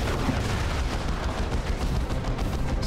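Continuous artillery bombardment in the Warhammer 40K strategy game Dawn of War 2: Chaos Rising, a dense, steady roar of overlapping blasts and rumbling impacts running throughout without letup.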